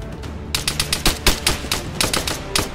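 A rifle in ARMA 3 fires a fast string of about a dozen loud, sharp cracks in close succession, each shot distinct and close.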